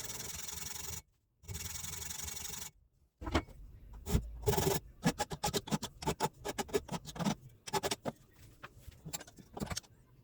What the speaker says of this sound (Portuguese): fiz o começo do desbaste ali com uma lima triangular